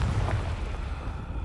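A Confringo blasting spell goes off in Hogwarts Legacy as a deep, rumbling boom with a low roar that hangs on briefly and slowly fades, no voices over it.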